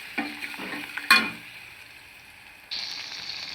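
Tomato rasam being stirred in a pot after salt is added: a few scraping strokes, a sharp metallic clang against the rim, then a soft steady sizzle from the pot, all fairly quiet and without speech.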